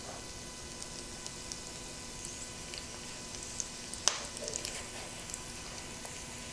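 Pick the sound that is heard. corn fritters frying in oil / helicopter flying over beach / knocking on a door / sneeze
corn fritters frying in oil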